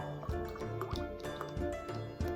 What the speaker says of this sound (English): Takes a while to pour.